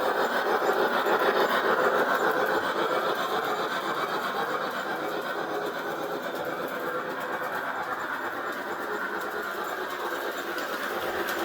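A Piko G scale DB BR 50 model steam locomotive runs at full throttle, giving a steady, close mechanical whir and hum that holds constant and slightly eases off toward the end, with no talking.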